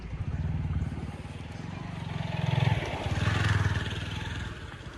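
A motorcycle engine putters and revs on a muddy rural road in Nepal, its rhythmic chug swelling as it draws nearer, with faint scraping and clatter mixed in.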